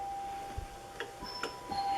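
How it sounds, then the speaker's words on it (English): A home-rigged doorbell rings through the house, replacing a small hand bell. It gives a few soft, distant chimes over a quiet background. "It's a doorbell."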